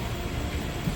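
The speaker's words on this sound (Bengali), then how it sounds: "আমাদের ট্রেন এখন নিউ ফারাক্কা জংশন ঢুকছে" The Teesta Torsa Express pulls into New Farakka Junction with a continuous, even rumble of rolling wheels and carriages heard from inside the train.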